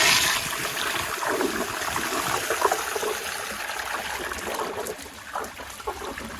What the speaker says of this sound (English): I'm gonna give another flush on the flushometer